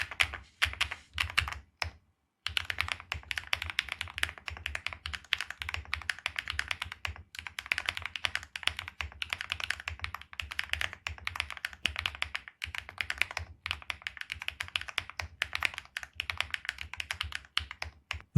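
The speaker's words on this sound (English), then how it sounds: "Let's listen to the typing sound performance." Steady rapid typing on a mechanical keyboard with PBT keycaps, close and crisp clacks in continuous bursts with one short pause near the start.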